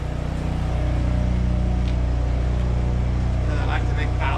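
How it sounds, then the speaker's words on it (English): A steady, droning engine-driven welder hum runs continuously in the background at moderate loudness, charging batteries, with faint voices briefly toward the end. "Noise you're hearing in the back, that's our welder."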